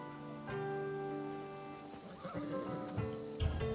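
In Assassin's Creed Odyssey, a horse whinnies over a steady hum, followed by soft clopping and rustling noises, faint and somewhat distant.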